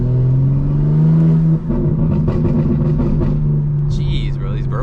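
A custom-tuned BMW G82 M4 under acceleration, its loud engine drone dropping off into a run of crackling exhaust burbles and pops, with a voice talking over it near the end.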